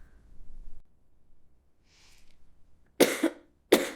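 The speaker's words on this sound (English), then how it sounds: "Cough." Two sharp, close coughs in quick succession after a quiet stretch with faint breathing.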